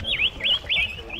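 A white-winged wood duck calling in jungle near a river at Eaglenest wildlife sanctuary, three clear, close, rising-and-falling whistled notes in quick succession over faint background noise.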